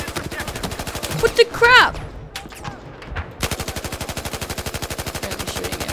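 Enemy machine-gun fire in Battlefield 4, rapid rattling bursts that start and stop, with a loud sustained volley at the end, while a player speaks over it.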